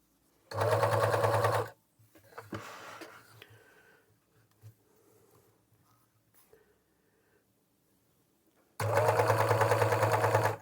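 A Victoria HA-4000DF overlock sewing machine stitches and trims through several layers of fabric in two loud, steady motor bursts, separated by a quiet stretch of faint handling noise.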